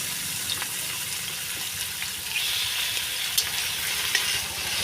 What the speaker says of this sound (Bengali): তেলটা গরম হয়ে গেছে দাও চিংড়ি মাছ দিয়ে দাও